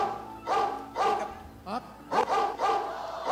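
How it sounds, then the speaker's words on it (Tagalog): Several sharp dog barks in quick bursts, fairly close, with a brief whimper-like sound between them. "Akala mo ba yung mga aso ay nasa farm? Kapit-bahay."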